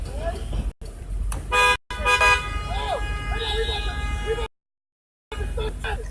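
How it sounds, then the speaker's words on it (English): Horns honk in short toots over the hum of street traffic, with a voice talking in between, and the sound cuts out briefly in places. "I'm stuck in traffic."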